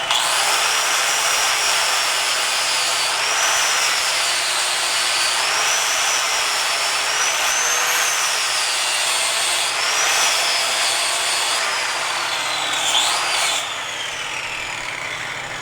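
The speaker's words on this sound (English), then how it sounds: "we're taking our flapper disc and we're kind of coming in here. We're just going to hit the tops of this weld junk here." An angle grinder fitted with a flap disc grinds down weld on steel, giving a loud, continuous high whine whose pitch wavers as the disc bites and eases, then drops slightly near the end.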